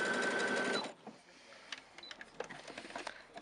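Sewing machine stitching on a button, a quick rapid mechanical chatter for under a second, then stopping, followed by faint handling clicks and rustles close by.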